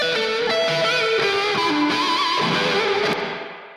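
Sustained guitar chords ringing out in a dense, shimmering plate reverb wash, tails blending together and fading away at the end.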